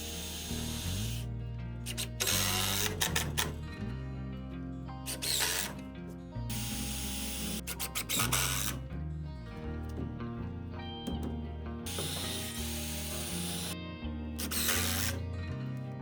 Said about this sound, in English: drill 2 more holes, and put 2 more screws in